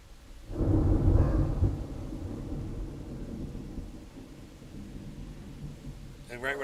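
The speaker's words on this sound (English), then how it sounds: "And right when I said it, there's big thunder behind me." Loud rolling thunder rumbles in from the background, swelling to a deep peak early and then lingering as a long, low roar; a short rustle or click comes near the end.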